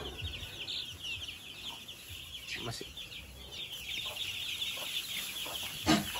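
Pet hens and chickens clucking softly around a watermelon snack, scattered low clucks and calls over a faint background hum, with a person talking nearby.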